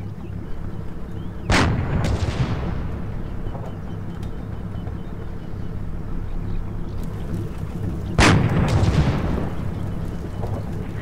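Artillery and gunfire in the WWII strategy game Combat Mission Market Garden: two heavy, loud blasts several seconds apart, each with a long rumbling tail, over a steady low battlefield drone.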